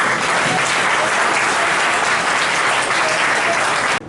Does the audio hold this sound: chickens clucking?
no